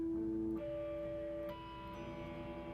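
Guitar harmonics ring out on the fretboard, three bell-like chimed notes sounding one after another and sustaining quietly, with no talking.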